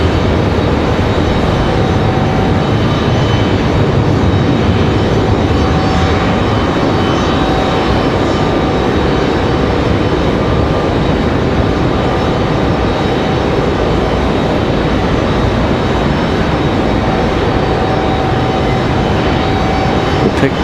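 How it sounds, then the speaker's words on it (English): An American Airlines A319 jet departs Raleigh-Durham airport, its engines giving a steady, broad roar that fills the scene from start to finish without letting up. "That American A319 headed to Washington D.C. via DCA via Reagan there."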